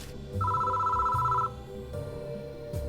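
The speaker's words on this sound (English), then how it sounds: "Suddenly a phone rings at the security station." A telephone rings at a security station in a video game, giving a loud, close electronic double-tone ring followed by a second shorter ring against a low ambient background with no talk.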